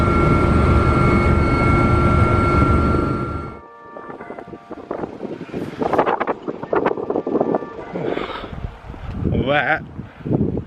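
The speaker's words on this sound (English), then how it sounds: "we'll be shutting down the engines. That takes approximately 2 minutes." Helicopter engines of an Atlantic Airways flight over the Faroe Islands winding down after landing: a loud steady turbine roar cuts off abruptly, leaving softer rattles, wind buffeting and a voice talking.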